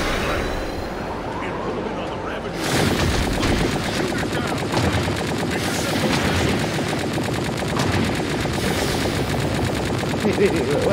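An armed glider in the video game Tower of Fantasy opens fire after a quieter start, unleashing loud, continuous rapid machine-gun bursts that run unbroken to the end.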